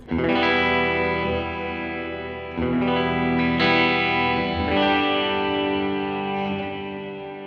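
A slow-building reverb on a Line 6 Helix swells behind electric guitar chords, several strums ringing loud and sustained, each blooming into a long wash before fading near the end.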